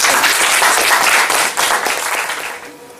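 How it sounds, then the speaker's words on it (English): A round of applause from an audience after a leadership talk, loud close clapping from many hands that holds strong, then gradually thins and fades away. "Please give him a round of applause"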